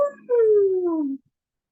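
A person howls like a wolf during a full moon greeting, a single loud, drawn-out vocal howl that starts with a short yelp and then glides slowly downward for about a second before stopping, a voice imitating a wolf.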